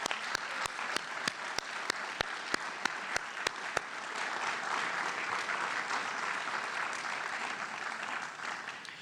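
Audience applause for retirees at a retirement celebration, opening with a run of sharp evenly spaced single claps from one person before broad, steady clapping from the crowd takes over, moderately loud and even.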